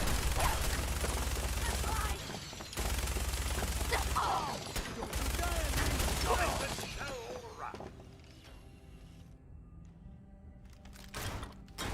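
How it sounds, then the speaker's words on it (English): A minigun in the video game Fallout 4 roars in long sustained bursts of rapid fire, loud and dense, with brief gaps between volleys before fading into quieter thuds and background ambience; a voice speaks faintly beneath. "Yeah, you heard a minigun."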